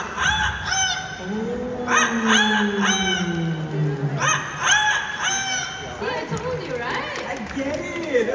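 A parrot imitates a rooster crow at a bird show in Singapore, giving a drawn-out, sliding call with harmonic squawks around it. People talk over and between the calls.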